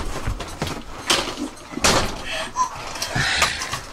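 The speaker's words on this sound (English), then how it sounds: "Don't close that door." A door slams shut in a tense scene, with several loud thuds and knocks in quick succession among rustling movement and brief voices.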